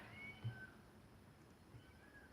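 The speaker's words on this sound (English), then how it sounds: "I hear cats crying in the background." Stray cats cry faintly in the distance, with a couple of thin, drawn-out meows over a quiet background hiss.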